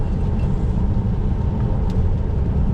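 A Ferrari 599 converted to a gated manual gearbox drives past with a deep, steady, loud engine rumble, its low drone holding constant with no clear gear-change breaks.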